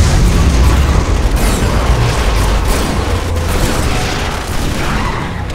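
A massive ion cannon blast in Command & Conquer: Kane's Wrath, a loud sustained roaring explosion with crackling debris that fades slowly over several seconds.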